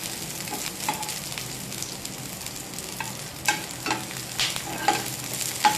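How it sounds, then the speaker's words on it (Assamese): Diced onions sauté over a high flame in a little oil in a kadai, giving a continuous sizzle with repeated sharp scrapes and clinks of stirring throughout, and no voices. "ডাইচ কৰা পিঁয়াজখিনি অলপ ছ'টে কৰি ল'ম।"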